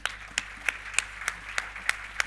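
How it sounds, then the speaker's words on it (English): A small audience applauds panelists at the close of a forum session, sparse and fairly quiet, with about eight distinct claps in a slow, steady rhythm and no talk over it. "Let's give the panelists a round of applause."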